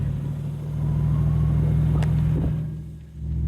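A 1965 Chevrolet Impala SS fitted with Holley Sniper fuel injection rolls along on a test drive, its steady low engine rumble continuous throughout, with a brief rise and dip near the end.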